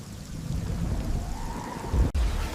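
Heavy rain pours steadily during a storm while low thunder rumbles beneath it, with a sharp crack near the end.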